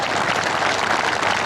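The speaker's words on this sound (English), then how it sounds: "Give them a nice round of applause right there from the Dillmeyer family" A brief burst of dense, steady crowd applause at a benefit auction, loud and close with no gaps.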